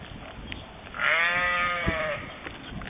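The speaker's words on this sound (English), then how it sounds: "As you can hear, we've got sheep in the background" Several sheep bleat in the background of an outdoor painting scene near Pakefield Church in Suffolk, one sustained wavering call rising over quiet ambient hiss, moderately distant and alone without talk.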